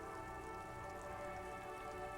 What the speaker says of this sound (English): A silvery curtain of rain over the houses